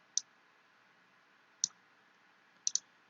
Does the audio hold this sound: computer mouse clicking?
yes